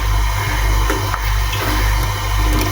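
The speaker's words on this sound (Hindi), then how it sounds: "इसमें मैं 1 गिलास पानी और डालूँगी" A glass of water is poured into Kashmiri pink tea as it cooks, a steady, close, loud rushing splash with a constant low hum beneath and no talking.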